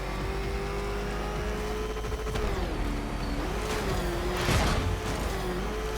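A car engine races in Batman: Arkham Knight, droning steadily with its pitch dipping and climbing as it shifts, while a whooshing burst sweeps past near the end.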